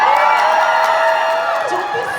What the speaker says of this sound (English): you can cheer for that